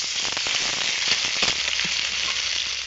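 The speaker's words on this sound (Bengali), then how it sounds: "আদা রসুন আমি তেলের মধ্যে ভালো করে ভেজে নিয়েছি।" Ginger-garlic paste frying in oil in a pan makes a loud, dense, continuous hiss with scattered crackles and pops, heard up close without speech.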